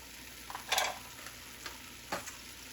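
Ground meat for cheeseburger soup sizzles and frying in a pot while being stirred, with a few louder scraping bursts over a steady quiet hiss, no talking.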